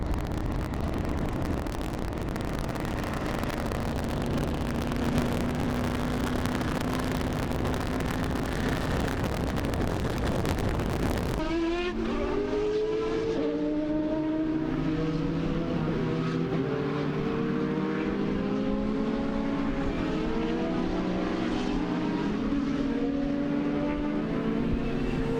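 Vintage sports cars race around a track, engines droning steadily with wind buffeting the microphone, then a clearer run of rising and falling engine notes as cars accelerate and pass at moderate distance.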